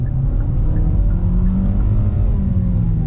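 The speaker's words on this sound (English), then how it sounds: "Let's go ahead and go on throttle on this turn here." A 2022 Kia Forte front-wheel-drive sedan accelerates on throttle through a turn, with a loud, steady low engine drone and road rumble heard from inside the cabin, without pauses.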